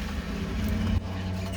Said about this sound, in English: There's going to be a car coming past, so you're going to hear noise.